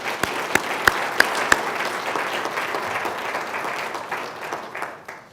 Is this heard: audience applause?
yes